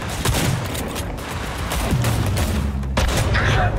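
Shotgun blasts and gunfire from the video game Cyberpunk 2077, several loud booming shots over dense game sound and background noise, with some voice faintly mixed in.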